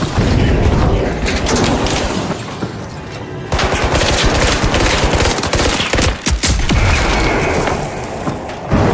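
Dense, loud battle noise in The Finals: rapid gunfire bursts and a grenade blast amid crashing destruction, continuous and close throughout.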